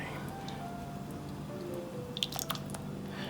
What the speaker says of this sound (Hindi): मैं सर्विस प्लेट में डालता हूँ,